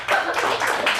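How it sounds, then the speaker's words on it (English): A brief burst of audience clapping at a youth improv showcase, a second of quick, close handclaps. "Let's give a round of applause."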